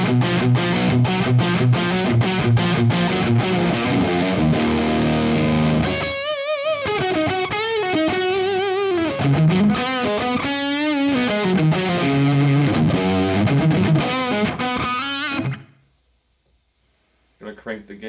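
Electric guitar driven hard through a Wampler Ratsbane distortion pedal, gain set near halfway, plays loud sustained chords and riffs for about fifteen seconds before cutting to silence.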